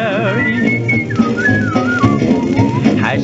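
A person whistles a bouncy, meandering tune over steady instrumental backing music, the whistle clear and prominent throughout.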